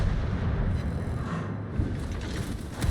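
Secondary guns of a warship in a naval combat video game exchange fire with an Alabama battleship: repeated low, rumbling booms and thuds blending into a continuous heavy roar, loud and dense, with no talking.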